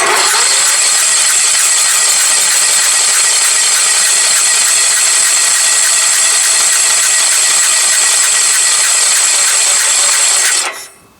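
A flooded Sears lawn tractor engine with little compression being cranked continuously and loudly, a steady mechanical whirring drone that cuts off abruptly at the end.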